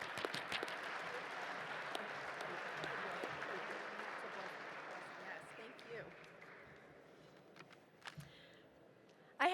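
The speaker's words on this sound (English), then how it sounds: "Please, everybody, give a huge round of applause to Eri Trott." Sustained applause from a crowd at a gala fills the room, fading gradually toward the end, with scattered louder claps.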